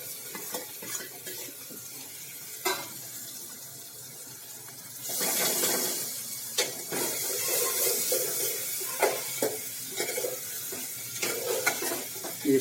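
Sliced ivy gourd, potatoes, green chilies and tomatoes tipped into a hot pan for a Gujarati vegetable dish, a wet sizzle swelling up with scattered stirring clatter and knocks, close and moderately loud.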